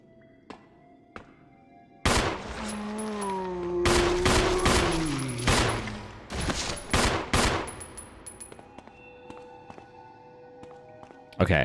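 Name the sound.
gunfire in a video game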